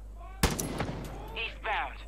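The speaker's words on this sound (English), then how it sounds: "Shots." Gunfire from the video game Far Cry 5 opens with one sharp, loud shot, followed by a quick scatter of fainter reports. Brief voices come in near the end.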